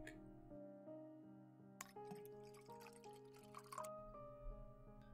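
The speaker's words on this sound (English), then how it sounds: "Take a seat, and let me pour you a drink." A drink is poured in a quiet room, a soft liquid splash and trickle standing out for a couple of seconds over steady background music.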